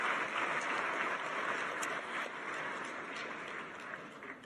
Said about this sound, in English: Could we give that announcement a round of applause?